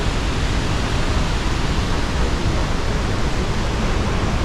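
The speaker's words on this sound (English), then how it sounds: "it's pretty cool to be here in the waterfall, especially at night when nobody can really come down here" High Force waterfall at night, a steady dense roar of falling water, close and constant without any voices.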